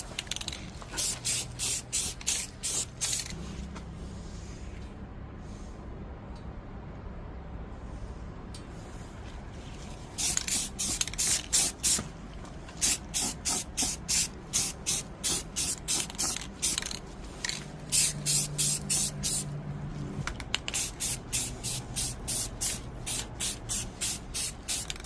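Spray paint hisses onto Schwinn bicycle seat springs as light coats go on in rapid short bursts, close and steady, with quieter pauses between runs of spraying.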